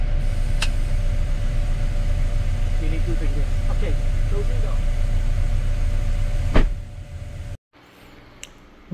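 A car engine idles with a steady low rumble after an air-conditioning freshener spray treatment, a few clicks and knocks over it, then the sound cuts off abruptly near the end.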